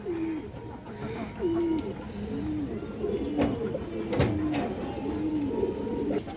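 A pigeon coos in a steady repeated rhythm, about eight low rolling calls close by, over a faint background with occasional sharp clicks and a little distant voice.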